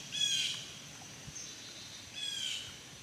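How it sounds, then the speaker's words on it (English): Agitated crows caw harshly outdoors, two bursts of calls a couple of seconds apart, moderately distant over a quiet background. "quiet down the pissed off birds"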